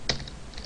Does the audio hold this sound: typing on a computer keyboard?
yes